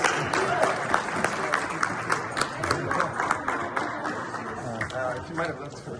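An audience claps steadily at an event, a dense rippling patter of many hands that carries on for several seconds, with crowd murmur mixed in.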